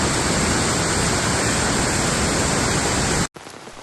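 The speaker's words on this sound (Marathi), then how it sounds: "एवढा मोठा पाऊस पडला" Heavy monsoon rain pours down in Konkan during a July orange alert, a dense, steady roar that fills the scene without a break, then cuts off abruptly near the end to a quieter wash.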